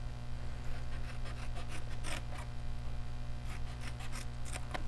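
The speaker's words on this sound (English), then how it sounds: "Then we can cut off this little rectangle." Scissors snip through paper for a stamped treat box, making soft, close cutting strokes and scraping rasps over a steady low hum.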